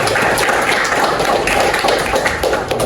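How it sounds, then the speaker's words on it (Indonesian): Loud, dense clapping from a roomful of university students at a basic skills training class, a continuous crackle of many hands sustained throughout. "berikan tepuk tangan dulu."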